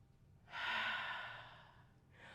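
A single long yoga breath, a steady breathy exhale during a power yoga flow, rises and slowly fades over about a second and a half before a softer second breath begins, close and alone without talk.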